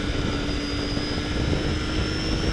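A race car engine drones loudly and continuously as it revs to around 5,000 RPM in first gear on a straight, a dense, unbroken roar with a steady tonal whine.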